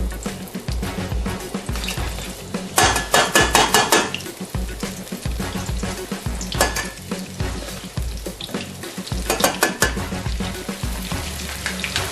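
Breaded okra frying in hot grease in a pan: a steady, close crackling sizzle, with repeated clinks and scrapes of a utensil stirring against the pan.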